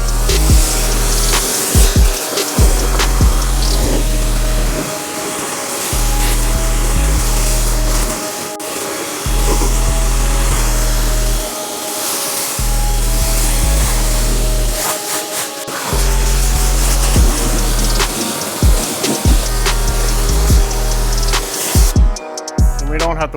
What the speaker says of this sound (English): And rinse it all off.